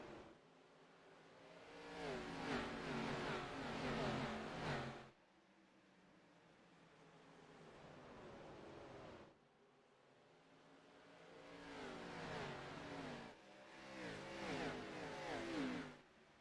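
Race cars accelerate at Richmond Raceway as the green flag drops, engines surging in repeated rising waves of revving roar, each swell building for a few seconds before dropping back, faint and distant.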